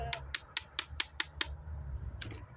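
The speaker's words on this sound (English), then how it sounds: "Can you stop clapping yourself" Hand clapping, seven sharp, evenly spaced claps close by, then a pause and two more quick claps, over a low steady hum.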